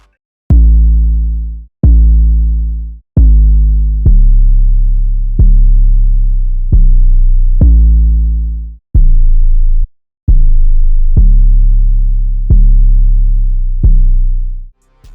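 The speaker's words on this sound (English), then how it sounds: "the 808 that I laid down." Deep 808 bass line programmed in FL Studio for a Glo-style beat, a series of loud booming sustained notes hitting in a steady rhythm, each decaying slowly before the next, heard alone without any talk.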